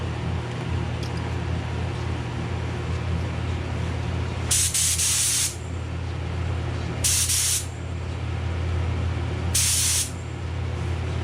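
A spray gun laying a lacquer coat on a guitar body sends out three bursts of hissing spray, each lasting about a second, over a steady loud background hum.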